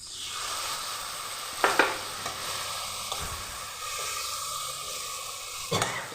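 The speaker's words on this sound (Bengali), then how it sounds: "বাটাটাও দিয়ে দিলাম, একটু স্টিমটা কমিয়ে দিলাম, হালকা অল্প জল দিয়ে দিব আমি। টমেটোটাও দিয়ে দিলাম।" Potatoes and tomatoes cook in a pan with a little water, a constant moderate sizzle and hiss broken by a few brief stirring scrapes and knocks, with no one talking.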